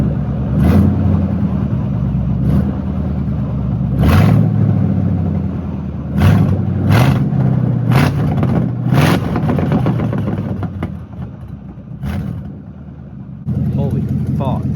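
A Ford 4.6 V8 running with open headers, loud and close, with repeated sharp revs over a rough rumbling idle throughout, and someone talking over it.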